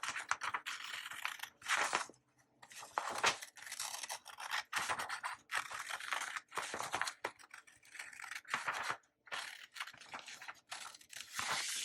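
Paper being cut with scissors for a decorative planner page, quiet close-up snips and rustling strokes in uneven bursts separated by brief pauses, with no talking.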